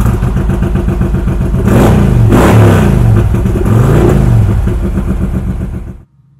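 Engine of a 2013 Harley-Davidson FLHR Road King 110th Anniversary motorcycle revving, a loud, close, rumbling V-twin that swells through two throttle blips before cutting off abruptly near the end, with no talking.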